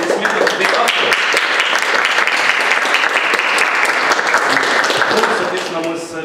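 A full hall audience applauds an author at a poetry reading, a thick, continuous wash of clapping that stays loud and even, with a few voices faintly audible beneath it as it begins to fade.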